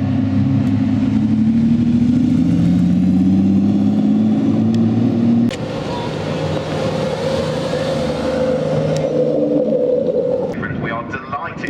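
A hybrid supercar at the Brands Hatch circuit drones with a steady, loud engine note that shifts pitch midway, a continuous close mechanical roar throughout.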